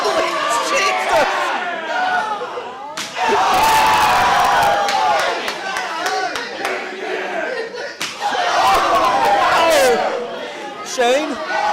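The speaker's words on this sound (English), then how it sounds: "This crowd is so vocal." A loud wrestling event crowd at a ProSouth Wrestling show roars and cheers in surging waves, with shouting voices and scattered claps and smacks close by throughout.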